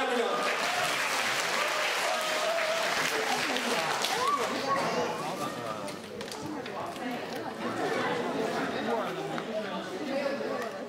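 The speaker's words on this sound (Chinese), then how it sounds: "大家鼓掌。" A large audience at a Mid-Autumn celebration opening gives sustained, loud applause, a thick wash of clapping with cheering and overlapping voices, easing slightly midway before carrying on.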